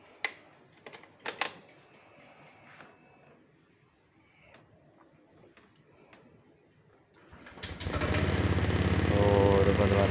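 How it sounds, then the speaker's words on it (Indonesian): A 2013 Honda Vario 125 motor scooter with nine years of use starts up after a few faint clicks, its engine catching at once and settling into a loud, steady idle hum. "Coba saya nyalakan aja mesinnya teman-teman."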